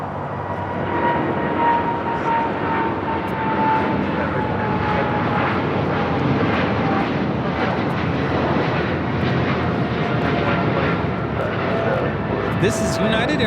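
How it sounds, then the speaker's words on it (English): A United Airlines Boeing 777-200ER rolls for takeoff at Los Angeles airport, bound for Newark, giving a steady broadband engine roar that holds for the whole stretch, with people talking over it. "This is United Airlines 1396 taking off to Newark on the 777-200ER."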